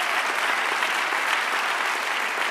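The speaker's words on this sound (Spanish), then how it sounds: "Dar un aplauso al Señor." Congregation clapping during a church service, a dense, even wash of many hands applauding steadily for a couple of seconds with no talking over it.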